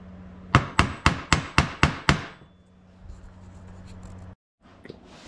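Seven sharp hammer taps in a steady rhythm, striking a center punch to mark pilot-hole spots for drilling on a 1955 Ford engine swap, close and loud, followed by quiet shop room tone and a few faint clicks.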